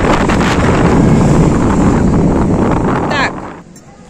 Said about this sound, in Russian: У нас сегодня такой ветер